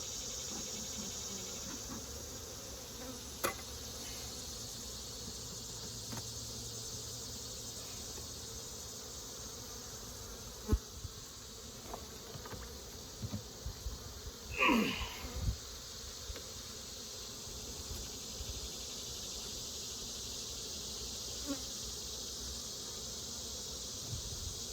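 Honeybees from a swarm colony buzz around an opened hive during frame inspection, a steady dense hum close by, with occasional knocks and handling clatter and no voices.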